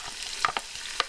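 Diced onions hit a pan of crisping pancetta with a steady broadband sizzle, broken by a few brief scraping stirs, close and fairly loud with no voices.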